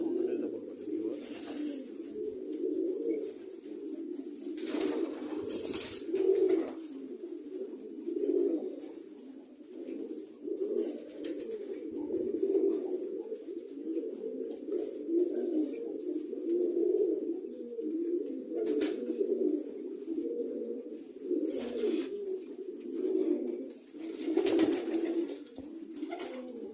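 Pet pigeons coo continuously in a low, throaty, overlapping murmur for nearly half a minute, several birds close by, with occasional brief rustles or wing sounds breaking through and no talking.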